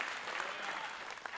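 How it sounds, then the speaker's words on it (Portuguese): A church congregation applauds briefly, a soft continuous patter of clapping heard at a distance under a faint voice. "Você pode aplaudir ao Senhor"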